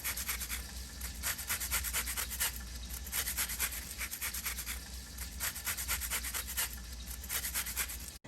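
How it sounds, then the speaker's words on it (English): A fresh lemon is zested on a cheap store-bought zester, giving steady rhythmic scraping and rasping strokes, quiet and close, with no talking. "And of course, some fresh lemon zest. And this zester right here, I got it from Walmart."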